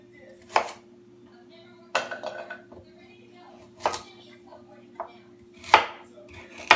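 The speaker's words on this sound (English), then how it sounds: "I'm going to roughly chop them." Heavy chef's knife roughly chopping big root vegetables on a board: about five sharp, separate thuds with irregular pauses between them, close and crisp, over a faint steady background hum.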